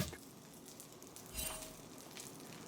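Shallots frying in a pan over high heat, sweating down for a flavour base, give off a steady soft sizzle throughout, swelling briefly louder midway, with no talking.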